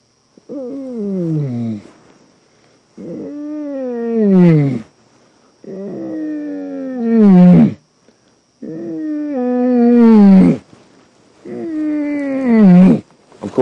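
A man imitates a lion's roar during a sunset safari drive, giving five long, loud, groaning calls that rise and fall, each separated by a short pause.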